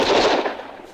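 A single close gunshot rings out in the 1-2 Switch quick-draw duel, a sharp burst that decays quickly over about a second.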